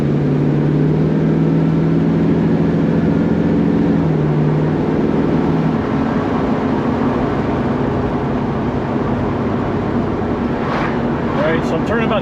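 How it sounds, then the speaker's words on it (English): A car engine with a Holley carburetor runs loudly in third gear at about 2100 RPM, a steady droning note that shifts and roughens partway through, with someone talking over it. "So I'm turning about 2100 RPM, third gear. Just gonna kind of can it, see what it does."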